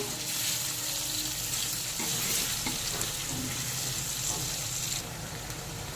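Potatoes and onions frying in a pan for a spicy Bengali Shankar fish dish, a steady, close sizzle with light stirring scrapes throughout and no talking.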